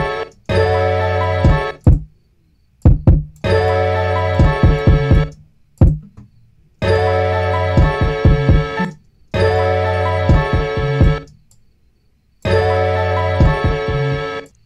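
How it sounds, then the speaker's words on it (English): Boom bap drum break programmed in FL Studio, looping four times with a heavy kick, snare and dense layered hits, each pass cut off by short silent gaps, loud and upfront with no voices. "So this is what that break sounds like."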